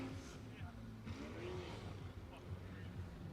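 Ford Mustang drift car engine at a drift and stunt show, revving roughly with sputtering, popping bursts under a crowd and announcer's voice throughout.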